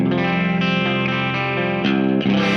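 Distorted electric guitar in C standard tuning, bridge pickup, rings out chords through a spacious Fender HammerTone Space Delay, with a couple of fresh strums near the end and no voices.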